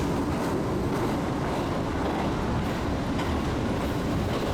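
A Chuo Line train bound for Nagano rolls along steadily, heard from inside the carriage as a dense, constant rumble with faint rhythmic clatter of the wheels on the track.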